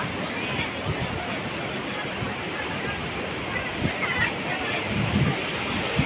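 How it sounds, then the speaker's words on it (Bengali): Sea waves wash steadily onto Udaynarayanpur beach at Digha, a broad continuous roar of surf with faint crowd murmur and voices mixed in the distance. "এটা হচ্ছে উদয়নারায়ণপুর বিচ"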